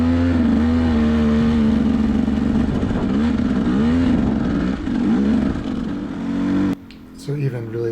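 A motorcycle ridden through snow slush in January, engine droning and throttle varying, close and steady, before it suddenly drops away near the end.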